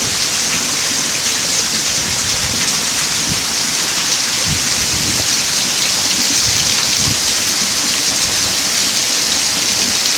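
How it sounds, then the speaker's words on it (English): Steady heavy rain pours down without a break, with low rumbles of thunder rolling underneath, dense and loud throughout. "thunderstorm, the thunderstorm."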